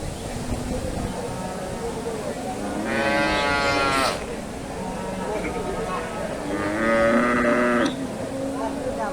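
A dairy cow at a cattle market in Bogura lets out two long, loud moos a few seconds apart, with crowd chatter and market noise underneath.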